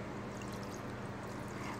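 Water poured from a container into a glass jar of sourdough starter, a steady continuous splashing stream, close and moderately loud.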